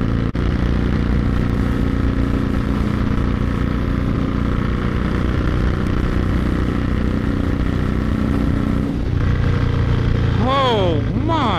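A Victory Vegas motorcycle engine drones loudly and steadily, pulling hard through high gears at speed with heavy wind noise, then rising sharply in pitch as it revs near the end; a rider talks over it.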